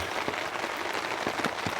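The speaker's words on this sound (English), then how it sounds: "But listen to that rain" Steady rain patters on a tent, a dense soft hiss with occasional louder drops tapping nearby.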